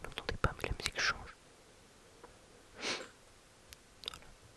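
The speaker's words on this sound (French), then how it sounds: "Tac, désolé, je renifle un petit peu." A person sniffs a few times, close and quiet, after soft whispery mouth and tapping sounds, with one clear sniff in the middle and small clicks and breaths after it.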